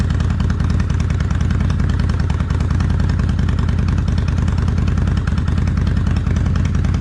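A Kawasaki Vulcan 800 Classic motorcycle idles steadily after a cold start, its close, loud engine chugging in an even, slightly clattery rhythm throughout with no voices.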